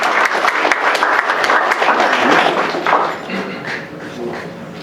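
Audience applause for a Korea-era U.S. Marine Corps veteran at a Veterans Day ceremony, a dense wash of clapping that fades somewhat toward the end.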